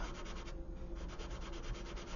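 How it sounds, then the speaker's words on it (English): A 400 grit sanding sponge rubs over the primed superstructure of a 1/200 scale USS Curtis Wilbur model ship, a close, steady scratchy rasp with no pauses. "So also use a sanding sponge here. This is the 400 grit."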